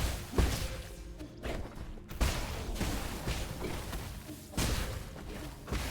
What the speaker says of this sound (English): Multiple explosions.